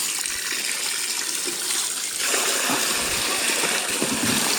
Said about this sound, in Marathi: एकदा पाणी टाकून देतो